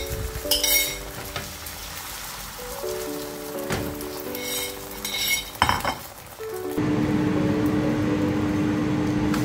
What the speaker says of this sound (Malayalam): ഇപ്പോൾ പാന് ചൂടാകുമ്പോൾ കുറച്ച് വെളിച്ചെണ്ണ ഒഴിച്ചു കൊടുത്തിട്ട് ഞാൻ ഈ ഓംലെറ്റ് ഒന്ന് സെറ്റാക്കി എടുക്കാം